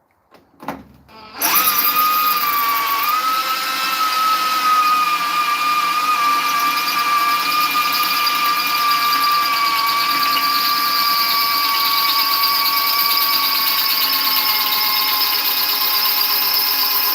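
A power drill driving screws into a temporary set build runs loud and steady for about fifteen seconds after a couple of brief starts, with a high whining squeal held throughout.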